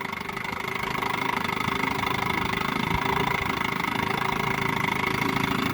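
A 1958 Johnson QD-19 10 HP outboard motor idles steadily, a running slightly rich, even mid-pitched putter at close range and moderate volume, with no voices.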